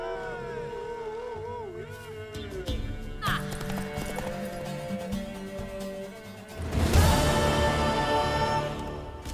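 Horse hooves clip-clop at a gallop and a mare whinnies in The Witcher 3 video game, over swelling orchestral music that surges louder near the end.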